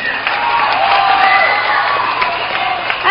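An audience at a live fan-meeting concert event in China breaks into applause. Dense, loud clapping mixed with crowd cheering fills the whole stretch without a break.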